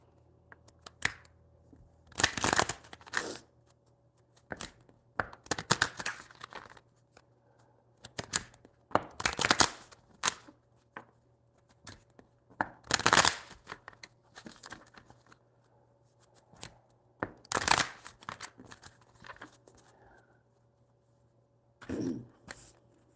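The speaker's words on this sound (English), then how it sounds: "Alright, let's give you a couple shuffles in here." Tarot cards being shuffled by hand in several separate bursts of riffling and sliding, close and fairly quiet, with pauses between shuffles and a low steady hum underneath.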